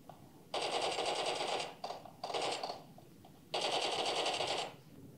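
Rapid automatic gunfire from the PUBG mobile game plays on an Honor X9a phone, heard as three loud rattling bursts: a long one, two short ones, then another long one. A faint background hum runs between the bursts.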